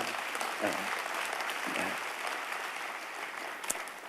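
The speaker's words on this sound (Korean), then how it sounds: "우리도 박수 한번 쳐요" A room full of people clapping together, steady dense applause for a few seconds, close and fairly loud.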